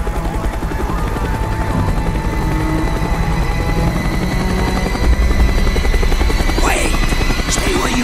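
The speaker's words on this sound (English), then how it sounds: "The chopper is coming around again." A helicopter circles in the Call of Duty: Black Ops game, its rotor a loud, steady thudding drone that runs without a break, with faint crackles near the end.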